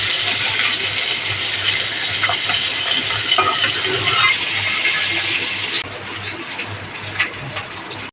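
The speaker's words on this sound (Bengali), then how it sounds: "তেলের মধ্যে দিয়ে দেব পেঁয়াজ কুচি পেঁয়াজটাকে সুন্দর করে ভেজে নেব" Chopped onion drops into hot oil and fries with a loud, bright sizzle and stirring clatter, close up, the hiss easing somewhat partway through, with no one talking.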